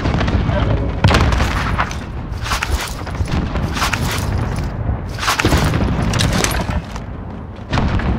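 Semtex grenades blasting during a shooter video game match, a rapid string of loud explosions and gunfire bursts spread across the whole stretch, with voices talking over the chaos.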